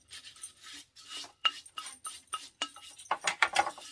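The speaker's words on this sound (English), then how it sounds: "brush to just clean it up a little bit" A brush scrubs and rubs at an old item to clean it, giving quiet, close, scratchy strokes in quick uneven repetitions with small clinks between them.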